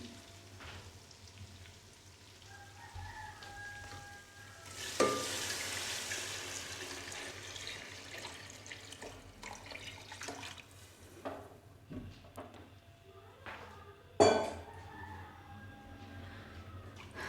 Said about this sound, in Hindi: और अब इसके अंदर मैं यखनी डाल दूँगी